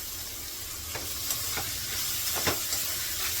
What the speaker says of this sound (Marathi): मी कांदा परतायला घातलाय अगोदर अर्धा चमच्यावर मीठ घातलं